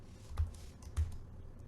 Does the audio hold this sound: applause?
no